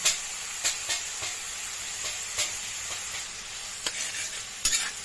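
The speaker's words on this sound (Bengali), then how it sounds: "এবার সব কিছু নাড়াচাড়া করে একটু ভেজে নিতে হবে।" Fried rice with chopped beans being stirred and fried in a pan, with a steady sizzle and repeated spatula scrapes against the pan throughout, close and clear with no talking.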